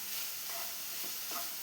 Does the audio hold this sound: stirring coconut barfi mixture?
yes